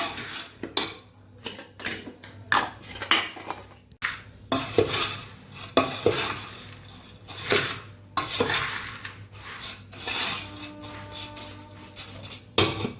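A metal spatula stirs spiced puffed-rice and dhani chevda in a pan, Kathiyawadi style. Near scraping and clinking strokes come in an uneven rhythm, with a faint sizzle under them.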